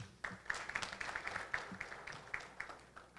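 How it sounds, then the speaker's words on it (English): An audience at a business expo applauds, with a scatter of fairly faint claps running steadily for a few seconds and no voices over them. "Ladies and gentlemen, let's give Elena a round of applause."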